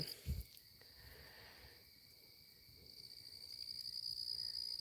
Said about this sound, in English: Hopefully you can hear the crickets.